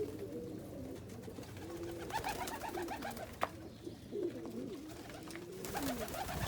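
Pigeons in a loft, among them birds bred from an almond cock and a brown hen, coo steadily and overlap in soft repeated rolling calls, close and continuous with faint rustling.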